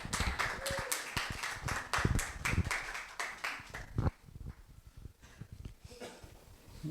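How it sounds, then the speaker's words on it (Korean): Applause from the congregation at a church youth Sunday service, a dense, steady patter of many hands clapping that thins out partway through. "좋습니다. 박수."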